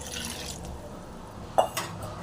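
Water splashes into a pan of frying mutton intestine, a soft liquid pour over a steady sizzle with a couple of brief louder splashes near the end.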